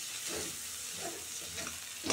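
Spices sauté with Kashmiri chili powder in a pan, giving a steady, close sizzle with soft stirring scrapes, no talking.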